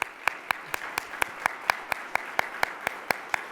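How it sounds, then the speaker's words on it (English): Sparse clapping for the sponsors at a Columbus banking forum, sharp, evenly spaced claps at a steady rhythm over a faint room background. "Let's give them a round of applause."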